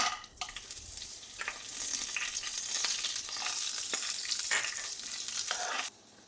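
Mixed nuts fry in hot homemade ghee with a steady, bright sizzle and occasional stirring scrapes, close and continuous. The sizzle stops abruptly near the end.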